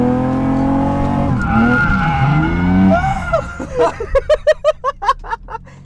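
Tires of a Nissan Skyline squeal in long wavering screeches as it drifts a figure eight, followed by a quick run of sharp rhythmic bursts, loud and close.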